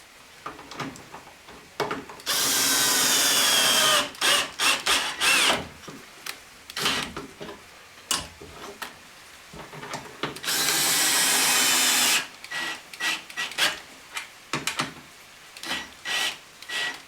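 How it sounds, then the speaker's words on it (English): A power drill bores holes for lag bolts on a tiller boat's steering pivot bracket, with two long loud runs of about two seconds each and many short stuttering bursts between them, close up and without talk. "I'm going to drill out for and put lag bolts underneath"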